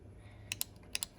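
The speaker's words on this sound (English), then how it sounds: "So that's the clicking sound you hear whenever you pull back and push forward on the shifter paddles." Carbon shifter paddle switches on a McLaren 12C click sharply in a few quick, close, dry taps, spaced irregularly over a quiet background.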